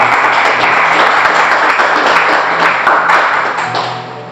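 A church congregation at a men's conference applauds, loud, dense clapping that goes on steadily and fades a little toward the end.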